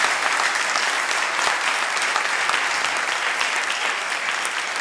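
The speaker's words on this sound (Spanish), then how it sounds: "Un aplauso a los que estuvieron." An audience at a business meeting applauds continuously, a dense, even clapping that holds steady throughout.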